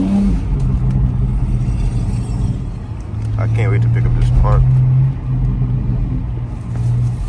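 A car fitted with an RK Tunes X3M front-mount intake drives along, its engine a steady low drone that swells and eases slightly while someone talks over it.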